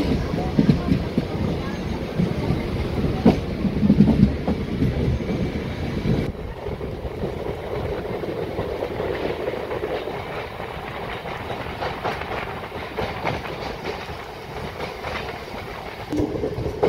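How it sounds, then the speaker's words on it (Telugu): A MEMU local train departs Vijayawada toward Machilipatnam, its carriage rumbling loudly and steadily with rhythmic clickety-clack over the rails after rain, heard from on board. "మన ట్రైన్ బయలుదేరింది ఫ్రమ్ విజయవాడ"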